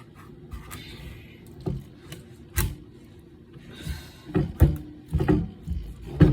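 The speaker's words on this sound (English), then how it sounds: "Now, let's cut it down the middle." A knife works through a chestnut squash with a dull blade, giving scattered thumps, scrapes and creaking cuts against a board, growing busier and louder toward the end.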